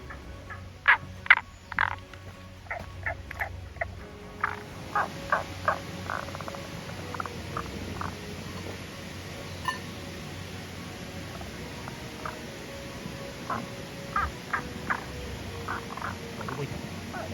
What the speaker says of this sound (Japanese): 無口なカエルやな。